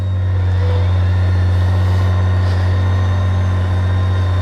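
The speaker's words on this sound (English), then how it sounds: "Then you push the starter button." A BMW K16GT motorcycle engine drones steadily at close range after starting, a deep constant rumble with a faint whine above it and no pauses.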